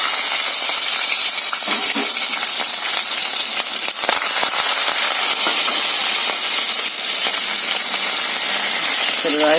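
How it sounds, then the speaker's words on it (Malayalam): Green chillies and curry leaves sizzle loudly in hot oil right after mustard seeds have popped, a steady, close hiss with a few faint crackles throughout. "കടുക് പൊട്ടിക്കഴിഞ്ഞ് അതിലേക്ക് നമുക്ക് പച്ചമുളകും കറിവേപ്പിലയും ഇട്ട് കൊടുക്കാം"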